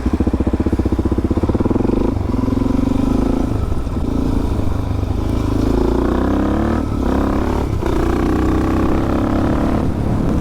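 A Suzuki DR-Z 400 motorcycle engine runs close and loud throughout, with a steady throbbing idle and a few short throttle blips that rise and fall. No talking is heard.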